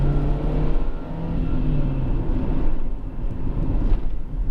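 A Honda CR-X 1.6 ESi engine revs steadily at close range, a continuous low mechanical drone with small rises and falls in pitch and no talk over it.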